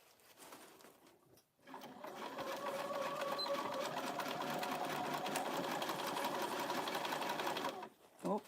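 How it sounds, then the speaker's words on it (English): A sewing machine stitches fabric for an Easter basket in a steady, close mechanical whir that runs for several seconds after a short pause, then stops with a quick clunk. "I just got to make sure that I'm not sewing over any beans."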